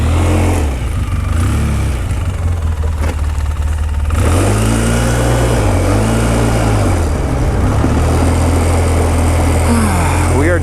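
A Polaris off-road vehicle's engine runs steadily while driving through countryside, its low drone rising and falling in pitch as the throttle shifts, close and continuous for the whole stretch.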